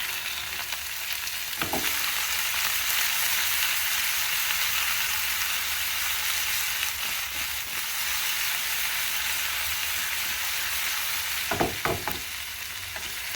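Chopped onions sizzle steadily in a hot skillet of breakfast potatoes, a continuous frying hiss with a few brief scrapes of stirring near the start and again toward the end, and no voices.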